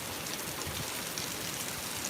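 Steady rain pours down during Hurricane Zeta, a dense, even hiss of water close by with no pauses and no voices.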